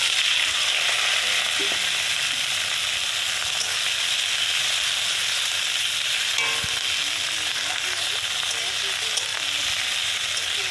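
Radish greens hissing and sizzling in hot oil in a pan, a steady loud frying sound with faint stirring clicks, no talk.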